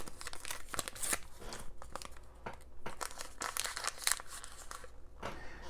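A small paper envelope is torn and opened up close, with a steady run of crinkling, crackling and ripping paper noises, fairly quiet and heard on its own with no talk.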